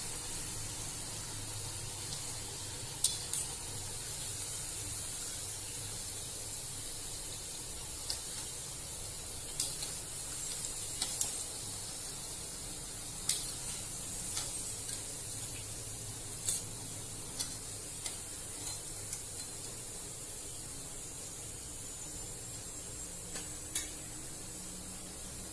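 Dal batti frying in hot oil, a steady bubbling sizzle that holds evenly throughout, broken by scattered sharp crackles and pops.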